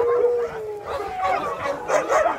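Sled dogs at a snow-mountain sledding site howl and yip in overlapping, wavering cries, fairly close, with people chattering in the background.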